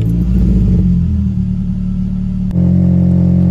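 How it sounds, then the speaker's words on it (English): A Ford Fiesta engine, freshly serviced with new oil and filter, runs with a loud, close, steady rumble, dips briefly, then catches and settles into a firmer idle. "and started the engine."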